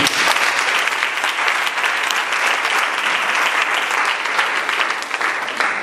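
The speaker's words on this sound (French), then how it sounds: "Acclame Jésus." A church congregation applauding during a sermon, dense, sustained clapping from many hands filling the space at steady volume.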